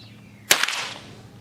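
A Henry H001 lever-action rifle fires a CCI Mini Mag round-nose round at a target outdoors, one sharp crack with a brief echo trailing off.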